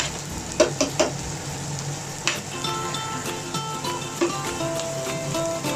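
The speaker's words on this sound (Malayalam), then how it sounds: "പച്ചമുളക് സവ ഇട്ട് നല്ലപോലെ വഴക്കുക" Green chilies sauté with a continuous sizzle in a pan for Kerala fish molly. A few sharp scrapes and knocks of a spoon come through early on and again midway.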